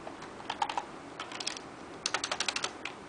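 Typing on a wireless keyboard, quiet close-up clicks of keys in two short bursts, with an irregular patter first and then a quicker run of about a dozen taps.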